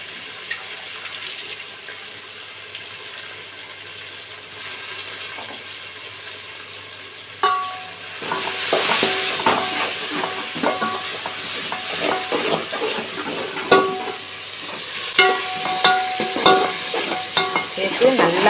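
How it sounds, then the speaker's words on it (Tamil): Mint being sautéed in a pan for mutton biryani, a quiet start giving way to sizzling and the scrape and clatter of stirring, fairly close with no talking. "சேர்த்து நல்லா வதக்கிக்குவோம்."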